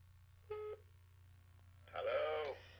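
An AT&T video phone gives two short electronic tones, a brief steady beep and then a longer chord-like burst, set apart by quiet hum.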